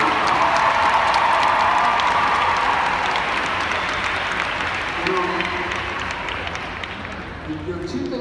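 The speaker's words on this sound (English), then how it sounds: "I think a huge round of applause for Jim Rutherford." A large theater-festival audience applauds an award honoree, loud dense clapping that holds steady for several seconds and then gradually thins and fades near the end.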